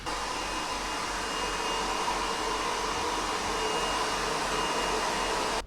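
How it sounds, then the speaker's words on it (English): A hair dryer fitted with a diffuser bag blows a steady, loud, even roar while drying curly hair, running continuously close up and cutting off abruptly at the end. "dry it now with the diffuser bag and my hairdryer"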